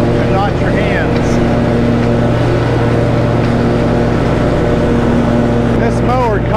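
A lawn mower engine drones loudly and continuously while cutting grass, a steady mechanical hum that holds the same level throughout with no breaks.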